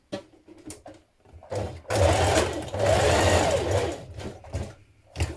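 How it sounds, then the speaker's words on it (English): A sewing machine stitches along a folded dress tie end, starting with a few short taps and then running in two longer close, steady bursts of rapid whirring. "fold it in half lengthways like this, and then we're going to stitch down one side"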